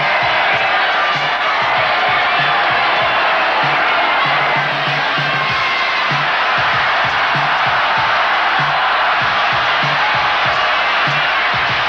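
A large crowd at a 1986 freestyle roller skating contest roars and cheers continuously, a loud wash of voices with occasional whoops, steady for the whole stretch.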